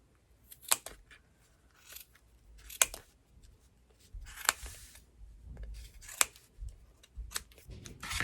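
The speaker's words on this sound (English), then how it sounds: "I have cut both sides of my pom-pom" Scissors snip repeatedly through thick yarn wound on a Clover pom-pom maker, a series of crisp, close cuts at irregular intervals with quiet handling between them, no talking.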